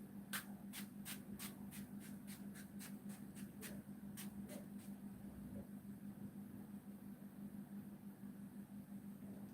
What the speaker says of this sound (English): we're going to use our setting spray